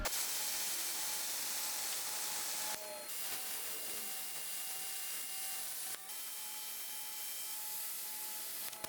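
A Yeswelder Cut-55DS plasma cutter slicing through half-inch metal, a loud steady hiss and crackle running throughout with brief breaks, no talking.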